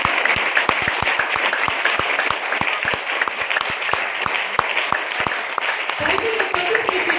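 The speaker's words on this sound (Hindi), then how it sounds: "जोरदार तालियां खुदा के लिए" Congregation clapping at a Friday church sermon, a steady mass of hand claps that fills the hall throughout, with a voice sounding faintly underneath near the end.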